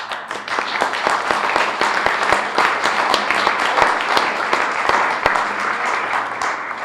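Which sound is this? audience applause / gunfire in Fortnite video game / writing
audience applause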